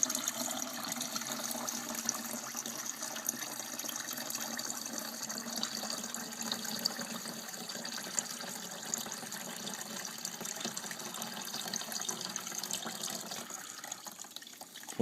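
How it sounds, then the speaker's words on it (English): Cold water pours steadily from a carafe into a coffee maker's reservoir, a continuous close splashing trickle that runs unbroken and alone for the whole stretch. "Pretty exciting watching water pour."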